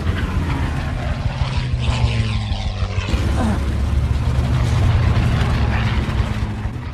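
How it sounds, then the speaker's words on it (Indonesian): Engines of World War II propeller fighter planes in a dogfight drone loudly and continuously, their pitch shifting as planes seem to pass close by, with a rumbling, roaring texture throughout. "Pertempuran udara atau dogfight pun terjadi dengan sangat menegangkan"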